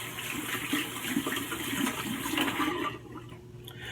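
A tap runs water onto a shaving brush during a wet shave with soap, a steady close splashing stream that cuts off near the end, leaving a faint trickle.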